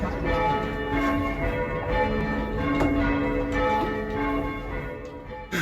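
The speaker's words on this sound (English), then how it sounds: "That's the peace bell." A church peace bell being rung, bound for a three-bell church tower, its bright tone sounding steadily over a continuous background of rumbling noise for several seconds, with no talk.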